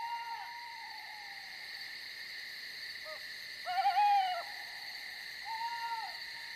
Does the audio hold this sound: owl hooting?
yes